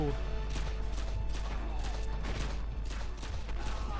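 Gunfire in the video game Call of Duty Modern Warfare 2 crackles in rapid, repeated bursts of sharp shots across the whole moment, with a steady low hum beneath and a voice at times.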